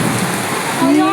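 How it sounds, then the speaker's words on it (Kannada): Heavy rain pours down at the Male Mahadeshwara hill temple, a dense, steady hiss that fills the whole moment, with a faint tonal sound rising near the end. "ಅದ್ರ ಜೊತೆಗೆ ಮಳೆ ನೋಡಿ."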